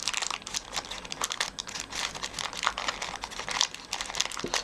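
Layers of Stampin' Up paper folded over and creased by hand for a lotus-shaped wax melt holder, a close continuous crinkling with rapid small crackles and taps.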